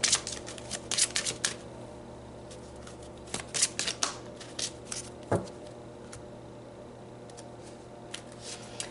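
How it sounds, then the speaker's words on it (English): Tarot cards being shuffled close by, with soft riffling bursts and papery flicks coming in irregular clusters and quiet gaps in between, with no talking. "So let's pull some more cards."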